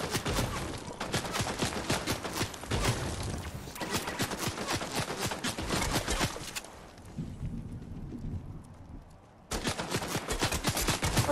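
Sustained video game gunfire, with rapid automatic bursts and overlapping shots rattling loudly, dropping to a quieter rumbling pause before another loud burst of firing.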